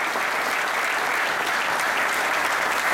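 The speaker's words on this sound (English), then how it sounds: "a big round of applause for all of the guys that are here" Sustained applause from the audience at a player-of-the-year football banquet in Dallas, a dense even wash of many hands clapping at full volume with no voices over it.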